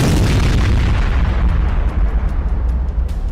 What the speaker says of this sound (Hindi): उन्होंने बंकर बस्टर के धमाके किए।